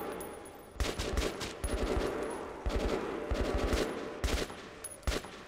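Rapid gunshots in the shooter Metro Last Light Redux, clustered bursts of automatic fire repeating throughout, fairly close and loud with little pause between volleys.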